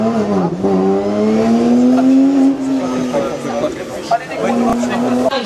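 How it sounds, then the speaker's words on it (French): Caterham race car at a hill climb in Herenguerville-Quettreville, revving and accelerating with a steady, rising engine whine that dips and climbs again, while a commentator speaks over it. "Allez, la voici, cette Caterham."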